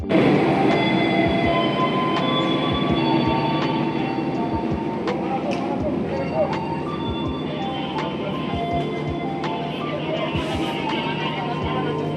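Loud, continuous rumble of the Cikuray passenger train at a station on the Jakarta–Bandung route, with metallic clanks and squeals, people talking faintly in the busy background.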